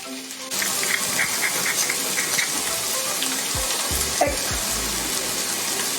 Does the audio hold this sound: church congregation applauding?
no